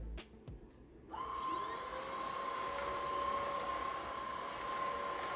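An Aposen H250 cordless vacuum cleaner switches on after a few clicks and runs steadily with a smooth, high whine, fairly quiet and close by.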